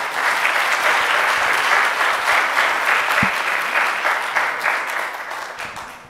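Sustained audience applause at an academic history conference welcoming a professor to the stage, steady and dense throughout, tapering slightly at the end.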